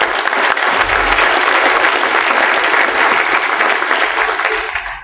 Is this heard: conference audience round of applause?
yes